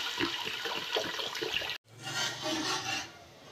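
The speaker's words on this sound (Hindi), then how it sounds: "अब मैं इसमें पानी डाल रही हूँ" Water is poured into a pot of rice, a litre to half a kilo, with a steady close rushing splash that breaks off briefly and resumes, no talk.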